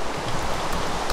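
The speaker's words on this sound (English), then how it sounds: "Oh, it's raining." Rain falls in the video game Minecraft as a steady, even hiss of raindrops, moderately loud and heard alone over a brief stretch.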